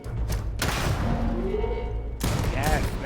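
Heavy grenade blasts in the Starfield game, two broad booming bursts with rumbling debris between them, loud and close, while someone talks over the action.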